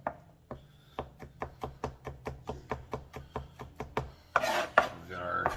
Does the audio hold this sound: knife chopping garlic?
yes